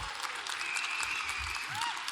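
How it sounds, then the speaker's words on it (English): Incoming class of 2029 students and caregivers at a school welcome presentation give a brief round of applause, soft and somewhat distant, with a few whistle-like tones over the clapping. "Round of applause."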